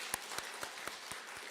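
Church congregation clapping along with a choir, six separate sharp claps in a steady beat over a faint, hushed room background.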